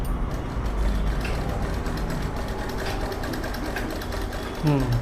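A sewing machine runs steadily while stitching a cross band, a continuous whirring, ratcheting rhythm up close with a brief change at the end.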